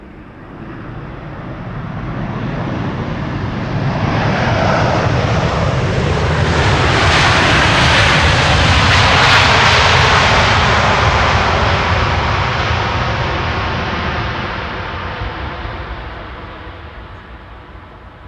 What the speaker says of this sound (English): next up Iberia Express arriving from Madrid